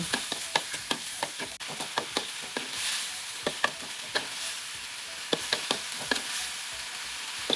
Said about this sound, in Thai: หลังจากนั้นคนให้ส่วนผสมเข้ากันค่ะ